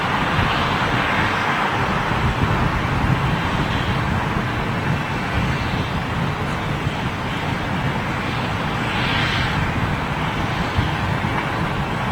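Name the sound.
aircraft engines during low climb-out at Heathrow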